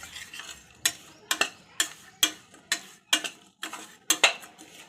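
Grated jaggery is stirred in oil in a pan for puffed-rice laddoos, with a regular series of about ten sharp spoon scrapes and knocks against the pan over a faint sizzle.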